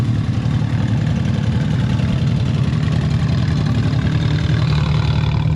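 A side-by-side UTV fitted with a GGB exhaust idles steadily up close, its low engine rumble continuous and even throughout with no speech.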